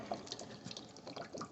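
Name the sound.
water draining from an RV water heater drain plug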